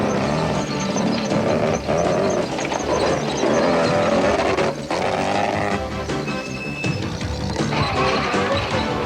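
A Carolyn Skoldhammer four-wheel-drive rally car at the 1990 Roof of Africa rally pounds over rocky Lesotho terrain, its engine roaring loud and close with crashes and thuds from the rough ground throughout.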